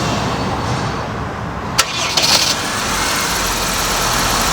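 A Honda Civic engine starts after a new belt and tensioner, a brief crank followed by the engine catching and settling into a steady idle, heard close with no talking.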